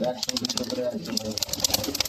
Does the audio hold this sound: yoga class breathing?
no